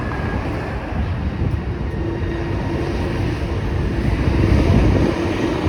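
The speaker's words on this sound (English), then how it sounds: "there's a GO train, I just missed it." A GO train passing along Danforth Avenue in Toronto, a steady loud broadband rumble and roar of rail traffic that holds throughout, swelling slightly toward the end, with no voices.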